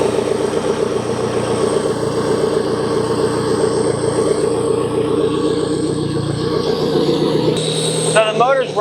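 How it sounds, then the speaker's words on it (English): Outboard motor running after a balancer install, with a noisy tensioner adding a rapid rattling clatter over a steady engine drone, close and continuous; a voice speaks over it. "So the motor's running, but I don't know if you can hear it."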